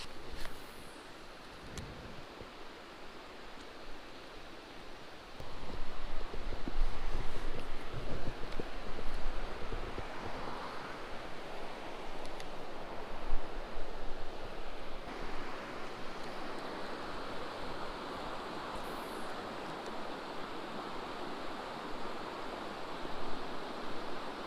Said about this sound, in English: And there's these little cool waterfalls like coming in off the side, coming into it.